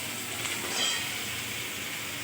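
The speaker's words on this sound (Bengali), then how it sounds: "এখানে বেগুন দিয়েছি কড়ায়" Eggplant frying in a wok gives a steady, even sizzle and hiss, moderately loud and continuous, with no talk over it.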